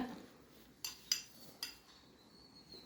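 A spoon stirs a mixture in a bowl, making four sharp, quiet clinks spaced irregularly against a near-silent background.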